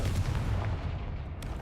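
The Confringo explosive spell in the game Hogwarts Legacy goes off with a heavy booming blast whose low rumble decays over about a second, loud and close.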